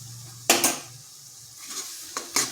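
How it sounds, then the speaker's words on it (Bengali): Eggplant with a pinch of turmeric being stirred in a little oil inside a pressure cooker over medium heat: a few scraping strokes and clacks over a soft sizzle, close and fairly clear. "যতক্ষণ না এই যে জলীয় ভাবটা চলে যাবে ততক্ষণ কিন্তু এইভাবে নাড়তে হবে।"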